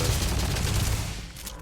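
Rapid gunfire in the video game Starfield, a dense fusillade of overlapping shots crackling close and loud, then thinning out toward the end of the short burst.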